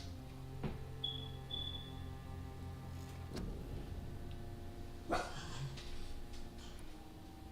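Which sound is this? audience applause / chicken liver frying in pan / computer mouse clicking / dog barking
dog barking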